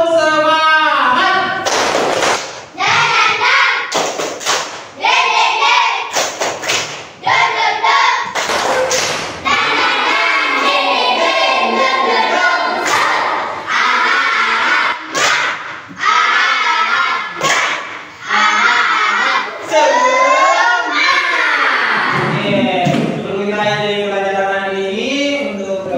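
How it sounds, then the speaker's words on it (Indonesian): Fourth-grade schoolchildren in an Indonesian classroom chant in unison while clapping in sharp, rhythmic bursts. Loud, close claps are punctuated by brief pauses, and the children's voices rise into a final cheer. "kita tepuk semangat sekali lagi supaya lebih semangat"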